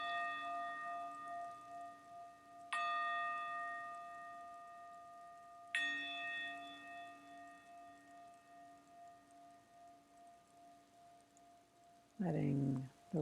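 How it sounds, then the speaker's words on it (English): A meditation gong is struck twice, each strike ringing out with a bright attack and a long shimmering sustain that slowly fades; a brief, louder rustle or knock breaks in near the end. "Letting the resonance of the gong touch your heart."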